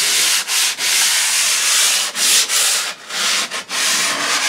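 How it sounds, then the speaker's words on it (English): Thin sandpaper rasps steadily across a drywall patch in continuous light strokes, close and fairly loud, with brief pauses between passes. "Now I've got a piece of very thin sandpaper, and I'm not sanding."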